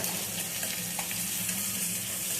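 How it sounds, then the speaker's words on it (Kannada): Curry leaves fry in hot oil for tempering, a steady sizzle and crackle throughout, a continuous frying hiss with no talking. "ಕರ್ಬೇವಿನ ಸೊಪ್ಪನ್ನು ಕೂಡ ಸ್ವಲ್ಪ ಫ್ರೈ ಮಾಡೋದಕ್ಕೆ ಹಾಕ್ತಾ ಇದ್ದೀನಿ."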